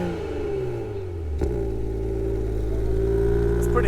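Toyota Supra Launch Edition with an aftermarket exhaust and its baffles open, revving loudly and close up, a deep droning rumble that swells and holds steady after a brief dip, with no talking.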